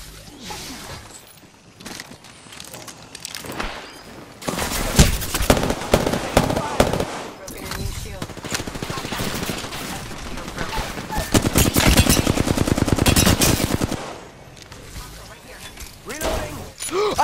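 Rapid bursts of gunfire in Apex Legends crackle in dense, loud volleys with brief pauses between them, under occasional in-game voice lines.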